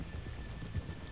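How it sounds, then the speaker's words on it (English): Horses standing off a main drive, with a faint hoof clop or two over low outdoor rumble. "Let's leave the horses here off the main drive."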